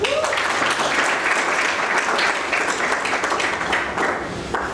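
An audience at a youth leadership event applauds in a dense, steady wash of clapping that stays fairly loud throughout.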